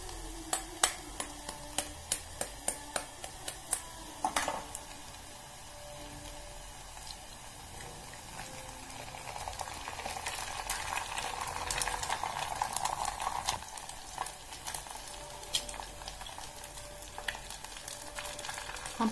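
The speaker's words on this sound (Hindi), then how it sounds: "अब हम इसमें अंडे को फोड़ के डालेंगे" Eggs cracked into browned onions in a hot pan for an Indian egg bhurji: a few sharp taps at the start, then a steady, close frying sizzle that swells and carries on without talk.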